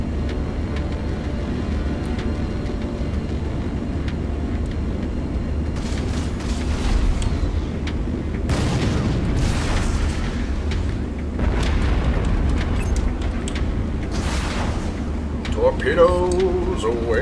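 Torpedoes and rockets fire in the space combat game Strike Suit Zero, a series of launch bursts and booming impacts over a steady engine drone, with a voice talking throughout.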